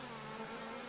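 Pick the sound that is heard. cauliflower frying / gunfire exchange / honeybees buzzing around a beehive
honeybees buzzing around a beehive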